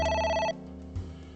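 A telephone in AI: Somnium Files gives one bright electronic ring burst that cuts off, followed by a soft low thump and steady background hum.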